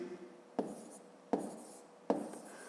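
Pen strokes writing numbers on paper for a column addition exercise, three short scratchy bursts at an even pace, close and fairly quiet, with no talking.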